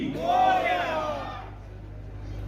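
A large crowd at a Ganesh festival in Saswad roars a Ganpati Bappa chant together in unison, loud and swelling before tapering off.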